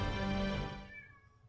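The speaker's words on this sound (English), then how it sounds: "My cat friend, I must ask you to stop whining." A cat whines in the Valkyria Chronicles war game, giving one drawn-out, close meow that starts loud and fades over a second and a half, with no talking over it.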